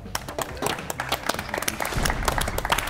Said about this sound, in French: on peut déjà applaudir